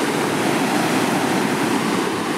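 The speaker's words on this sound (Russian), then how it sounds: "Его уже 3 раза сбило с головой волна." Ocean surf breaks where swimmers are being knocked over by waves, a loud, continuous rushing roar of churning water with no pause and no voices.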